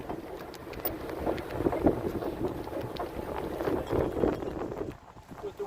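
Steady wind in northern Montana blowing and buffeting a microphone, a continuous rough rush that swells and eases, dropping briefly near the end.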